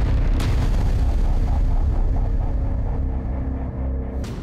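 Loud, sustained booming rumble of explosions at an oil refinery or gas station, dense low-end roar throughout with a sharp burst near the start and another near the end, no voices.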